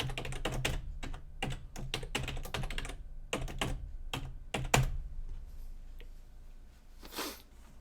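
Rapid typing on a computer keyboard in bursts of quick, close clicks, pausing briefly before a final short flurry of keystrokes, with no voices over it.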